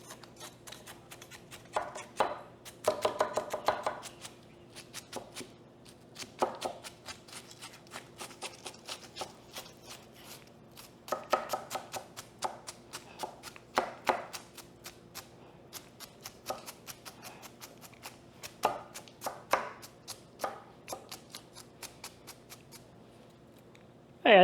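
Kitchen knife cutting food on a cutting board: a long run of sharp, close taps in irregular bursts, some quick rapid clusters, then steadier single chops, with no talking.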